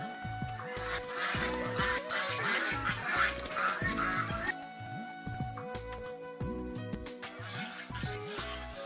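A flock of chickens of various breeds clucks and calls in steady, repeated bursts, fairly close and busy throughout, with no talking.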